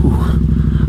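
A motorcycle rides along with a steady, close, pulsing engine putter and a slight rise in pitch over a short burst.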